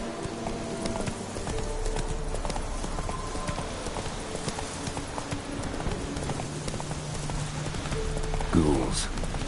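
Steady hoofbeats as the horse Roach runs in a video game, a rapid clip-clop rhythm carrying on throughout at moderate level over a soft ambient bed, with a brief louder burst near the end.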